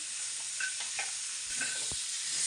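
Tomatoes and onions frying in a pan make a steady close hiss of sizzling oil, with a few faint stirring scrapes and a small knock, and no voices.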